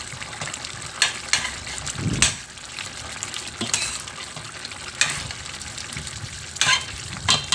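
Pork afritada sauce with tomato ketchup and tomato paste bubbles and sizzles steadily in a pan, with a few louder stirring scrapes and splashes recurring along the way, close and moderately loud with no talking.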